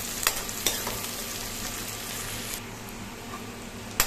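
Onions and green chilli cook in a pan over a medium flame, giving a steady, dense sizzle punctuated by a few sharp utensil knocks, with no talking.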